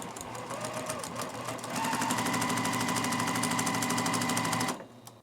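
A sewing machine stitches a corner seam at a 2.0 stitch length, running in one steady, close, continuous burst. It grows louder partway through and then cuts off just before the end.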